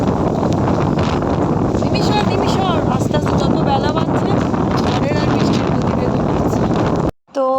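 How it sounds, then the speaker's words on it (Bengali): Strong gusting wind in a rainstorm roars and buffets the microphone continuously, with a voice faintly audible beneath it before the noise cuts off abruptly. "বাপরে হাওয়ার গতিবেগ মানে সময় সময় বাড়ছে"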